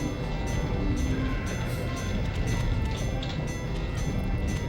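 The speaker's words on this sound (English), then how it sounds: "Chat, the train doesn't end." Steady rumbling rail noise from a train in the Nintendo 64 game Looney Tunes: Duck Dodgers, running continuously and loud with no break, with a dense low roar and faint metallic clatter throughout.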